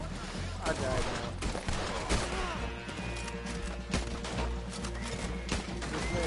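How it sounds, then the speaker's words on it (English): Rapid gunfire in Red Dead Redemption, including shotgun blasts: dense, loud volleys of shots layered over ongoing game sound. "Oh, I'm getting shot at."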